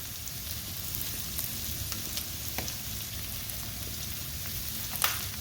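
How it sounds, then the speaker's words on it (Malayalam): Onions sauté in a pan for a spicy liver fry, a soft, steady sizzle with occasional light clicks of a spoon against the pan, quiet and without voices. "നമുക്കിതിന് ഇതിലേക്ക് സവോള ചേർത്ത് വഴറ്റാം."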